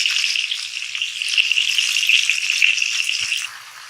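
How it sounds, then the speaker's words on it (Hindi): Nargisi koftas fry in a pan of oil, giving a close, steady sizzle with light stirring rattles, then easing slightly at the end. "इसी तरह से हमने सारे ये फ्राई कर देंगे"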